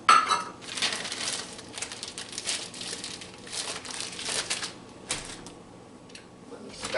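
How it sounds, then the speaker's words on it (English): Lamb, lentil and barley stew being stirred in an Instant Pot, with soft scraping and clinks of a utensil against the metal inner pot, crinkly and irregular, close by and fairly quiet. "Let me stir that in."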